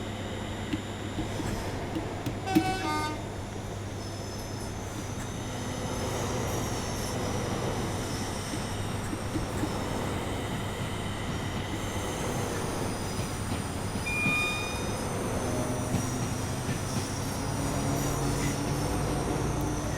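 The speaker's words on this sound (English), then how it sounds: "I must admit, the Pendolino does have a decent sound set." A Pendolino train passes in a train simulator game, a steady rail rumble with a low hum and faint wheel squeal lasting throughout, one sharp click near the start, with no talking.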